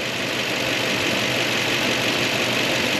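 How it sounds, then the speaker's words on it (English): A Toyota 2UZ-FE V8 engine idles steadily after a timing belt service, with a constant, dense mechanical hum and faint ticking, running continuously throughout without any pauses. "This engine sounds so good, guys, compared to how it did sound"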